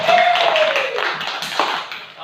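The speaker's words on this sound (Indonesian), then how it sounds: "Tepuk tangan tuh Nisa dulu nak." A class of students claps for a classmate, producing a steady wash of many hands that lasts throughout, while a voice talks over it.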